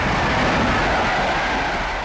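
A train rumbles past at close range, a loud, steady roar of wheels and carriages with a faint clatter running through it.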